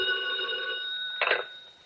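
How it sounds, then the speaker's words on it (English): A telephone rings in a police office as a radio drama sound effect, a steady electric bell tone followed by a brief louder burst near the end, heard alone without talk. "We just about finished going through the overnight reports for some kind of a lead when the phone rang."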